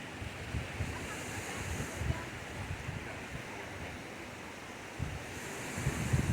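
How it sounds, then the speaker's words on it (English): Ocean surf and gusting wind at a beach, with steady broadband wash and low rumbling gusts buffeting the microphone throughout, loud and close. "I don't know if you'll be able to hear what I'm saying because the water and the wind is so"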